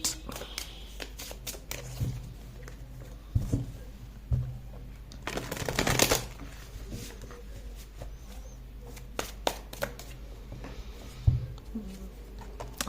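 Tarot cards are shuffled close by, with soft repeated riffles and taps and one louder burst of riffling in the middle, over a quiet background.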